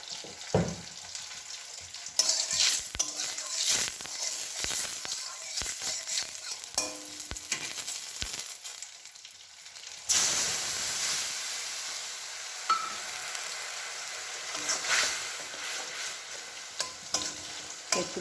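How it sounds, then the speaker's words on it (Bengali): Poppy seed paste frying in a little oil in a wok for a vegetarian dish, with continuous sizzling and hissing broken by repeated stirring and scraping strokes, close up and with no talking. "একটু ভেজে নিই"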